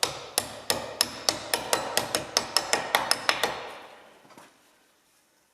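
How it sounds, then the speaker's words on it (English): A steering box seal cup on a Volvo Amazon car is tapped home with a copper washer, about fourteen quick, evenly spaced metallic taps close up, then a decaying ring and near silence. "Tap it home with your copper washer."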